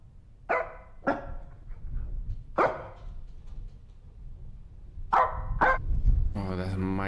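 A dog barks in the horror game Supernatural, several sharp single barks spaced across the stretch over a low rumbling ambience, with an eerie tonal sound swelling at the end.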